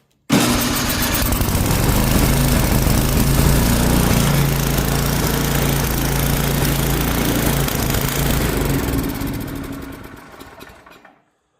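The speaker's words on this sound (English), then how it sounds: "Not only does the electric start work, but she fired right up." An old snowblower engine over 20 years old, recently repaired, is started with its electric starter and a little choke, catching at once and running at a steady, loud rumble before dying away at the end.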